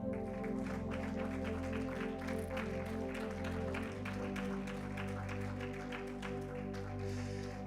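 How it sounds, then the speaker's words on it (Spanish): A church congregation applauds for the Lord, steady dense clapping running throughout over a sustained organ or keyboard chord, loud and close. "¿Cuánto le dan un aplauso al Señor?"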